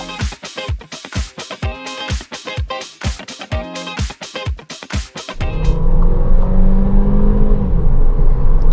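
A Volkswagen T-Roc R-Line 1.5 TSI 150 engine is heard from inside the car, first a rapid train of sharp pulses and then a loud, steady revving drone under acceleration.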